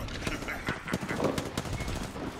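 Rapid automatic weapon fire rattles in Apex Legends, dense bursts of gunshots layered with in-game effects, continuous and loud over a couple of seconds.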